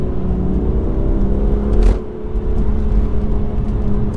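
BMW M2 accelerating in third gear, heard from inside as a steady, loud engine drone with road rumble, briefly dipping mid-way before pulling strongly again.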